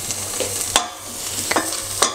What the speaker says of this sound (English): we're just gonna again make the shallot, as we call, make them sweat